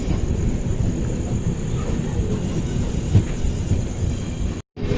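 Passenger train pulling into Bengaluru Cantonment station, a steady loud rumble of wheels and carriages throughout, with a brief dropout near the end.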